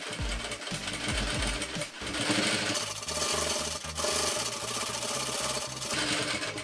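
A sewing machine stitches a fabric bandana bib with a close, steady mechanical whir and rhythmic needle chatter that stops and restarts briefly.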